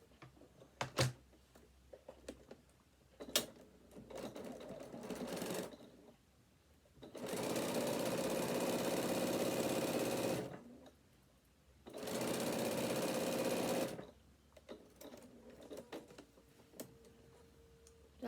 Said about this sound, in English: I'm now going to stitch down both sides of the strap connectors.